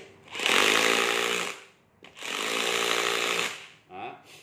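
A used power drill runs in hammer mode in two loud, close bursts of about a second each, with a buzzing, rattling whine and a short pause between them.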